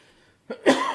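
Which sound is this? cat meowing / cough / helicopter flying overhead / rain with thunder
cough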